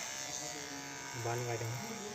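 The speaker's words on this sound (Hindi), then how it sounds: "थोड़ा सा ट्रिमर से आप मेरे बाल ज़रूर छोटे कर दे" An electric hair trimmer buzzes as it cuts hair at home, a steady, close motor drone that rises briefly in pitch midway.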